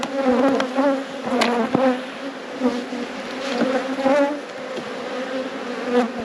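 Honey bees hum loudly and continuously around an opened hive box during a spring nectar flow, a dense steady drone with individual bees buzzing past close to the listener.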